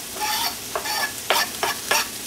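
Chopped onion, celery and garlic hitting a hot pan and being stirred, a close, steady sizzle with several short bursts of scraping and stirring.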